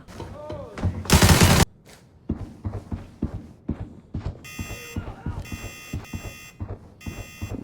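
Gunfire in Arena Breakout: one loud burst early, then repeated sharp shots, with electronic alarm beeps in later stretches and a player talking between them.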